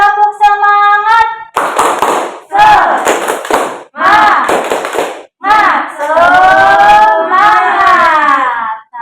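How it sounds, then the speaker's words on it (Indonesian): A classroom of pupils does a teacher-led 'tepuk semangat' clapping chant: bursts of rhythmic group hand claps alternate with loud chanted voices, opening with a single adult voice. "Kita tepuk semangat dulu ya."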